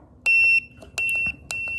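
A digital timer beeps three times as its volume is adjusted, each tone sharp, high and steady, with the level changing from one beep to the next over faint background noise.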